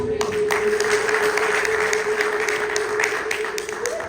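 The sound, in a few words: church congregation applauding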